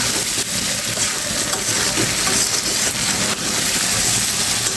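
Fried fish and okra dropped into sizzling masala in a pan give a loud, steady frying hiss that fills the whole stretch without pause, with no voices.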